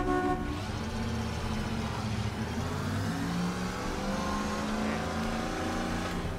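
A car in Mafia Definitive Edition rolls along slowly with a steady, low engine rumble and tonal hum that rises and falls gently, heard fairly faintly throughout.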